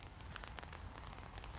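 Rain falls steadily on surfaces in a neighborhood park in Yeongwol, a soft continuous patter with scattered nearby drops over the hiss.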